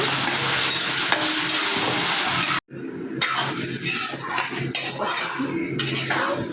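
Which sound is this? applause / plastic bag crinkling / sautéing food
sautéing food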